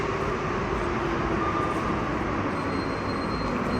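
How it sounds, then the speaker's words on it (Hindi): A steady, dense rumble of a metro train in an enclosed station, continuous and fairly loud with a faint high squeal. "मेरा ख्याल ट्रेन भी हमारी आ चुकी है"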